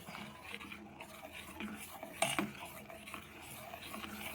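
A spoon stirring ragi porridge in a pot: faint, soft scraping and light clinks in an irregular rhythm, close by but quiet, with one slightly louder knock midway.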